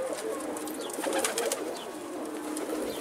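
Soft pigeon coos sound under a steady hiss of outdoor noise, with a few faint bird calls scattered through.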